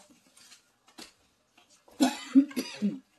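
A person with a cold coughs a few times, faint and scattered at first, then a louder cluster of close, rough coughs near the end, with light clatter around.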